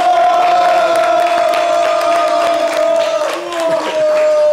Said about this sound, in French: On peut faire du bruit pour lui, merci